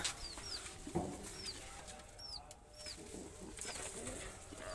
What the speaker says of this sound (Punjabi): ਆਪਾਂ ਤੁਹਾਨੂੰ ਕਬੂਤਰ ਲੜਦੇ ਦਿਖਾਉਣੇ ਅੱਜ